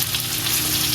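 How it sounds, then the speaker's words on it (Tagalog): Garlic and onion sauté for pancit canton, a brief steady sizzle of frying in the pan, close and continuous with no talk. "And then gisa nyo na yung bawang."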